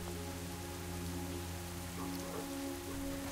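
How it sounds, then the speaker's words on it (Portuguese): Steady rain falls outdoors in World of Warcraft, a dense even hiss of drops on surfaces running throughout, with faint low tonal game ambience humming underneath and no voices. "Tudo lá de fora tá chovendo."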